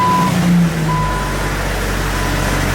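A vehicle engine cranks and catches, then settles into a steady low idle, close and loud, just after its rocker arms, rocker arm pivots and pushrods were replaced.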